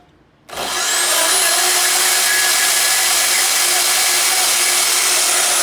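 Metal bar stock for a forged hammer pendant being cut off with a power tool: after a brief quiet moment, a loud, steady high-pitched grinding whine starts abruptly and runs unbroken to the end.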